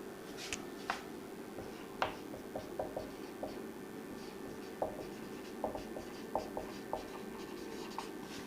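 Marker or chalk strokes on a board during a physics lecture on the electric field of a uniformly charged straight wire: short, faint scratchy taps and scrapes in an uneven rhythm, heard nearly alone in a quiet room.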